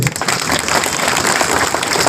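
Audience applause at a Wardha gathering of employees' union members, a dense steady wash of many hands clapping together at fairly loud level for the whole stretch, no talk over it.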